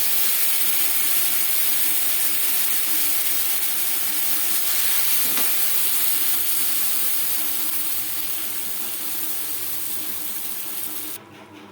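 Boiled moong dal and ash gourd hitting a hot tempering of chilli, cumin and bay leaf, producing a loud steady hissing steam sizzle up close that fades slightly before cutting off near the end.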